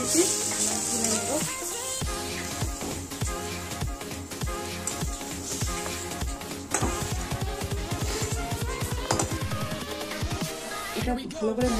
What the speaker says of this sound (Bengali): ভালো করে ভেজে নিচ্ছি, তুলে নেব।